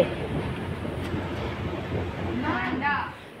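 Kolkata's underwater metro train at the underground Howrah station, a steady rumble and rattle of rail cars running close by, with a brief squealing screech near the end as the train slows.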